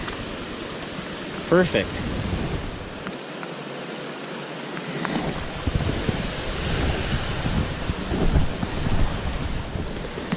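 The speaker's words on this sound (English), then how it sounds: "Get out of the rain." Rain falling on the McKenzie River while trout fishing, a steady hiss of rainfall and flowing water with gusts of wind across the microphone and someone speaking briefly.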